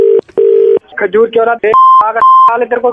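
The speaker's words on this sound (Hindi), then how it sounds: "एक सेकंड होल्ड करिए, मेरा एक फोन आ रहा है।" Telephone tones ring out in a comedic prank call: long steady beeps, then shorter tone bursts, alternating with loud talking voices.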